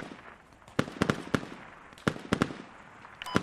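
Sharp explosive cracks and pops in the military shooter Squad, around a frag grenade blast, several distinct bangs at irregular intervals over a low ambient rumble, moderately distant.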